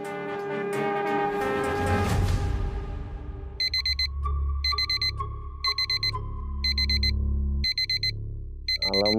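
An alarm clock rings in loud, repeated bursts of rapid electronic beeping, following a swelling burst of dramatic music, with no talking.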